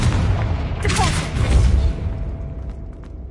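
Confringo fire spell blasts in the Hogwarts Legacy video game, a loud booming burst with a crackling flare that fades into a low rumble and lingering hiss, standing alone without talk.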